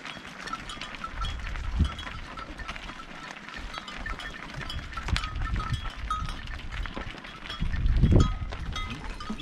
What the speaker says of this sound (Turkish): Şimdi de keçiler geliyor.